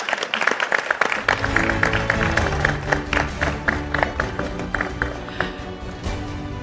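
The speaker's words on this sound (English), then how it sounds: "a big round of applause for Team Mahindra" A crowd applauding, many hands clapping in a dense, sustained burst that keeps going at a steady level.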